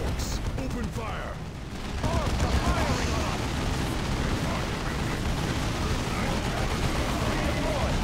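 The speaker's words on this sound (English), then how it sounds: "Orcs, open fire!" Massed gunfire from Ork squads in the strategy game Warhammer 40,000: Dawn of War II, a dense, continuous roar of shots and blasts that swells after a quieter start and holds loud to the end.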